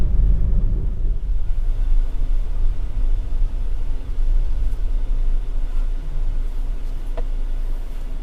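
Steady low engine rumble and road noise from inside a Hyundai Elantra 1.8L petrol car while driving, constant and fairly loud with no talking.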